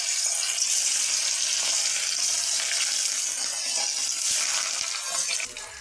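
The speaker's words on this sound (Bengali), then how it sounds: "আমি এখন মাছ ভেজে নেব" Turmeric-coated fish, katla for a yogurt curry, frying in hot oil in a wok, giving a loud, continuous close-up hiss of sizzling that eases slightly near the end, with no voices.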